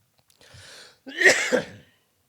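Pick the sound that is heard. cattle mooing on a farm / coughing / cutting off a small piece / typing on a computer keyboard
coughing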